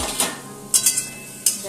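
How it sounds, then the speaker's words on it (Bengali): A metal lid comes off a pot of radish curry cooking over low heat, giving several short, bright clinks and taps close by, spaced irregularly over a quiet background. "তো আমি এবারে ঢাকনাটাকে খুলছি।"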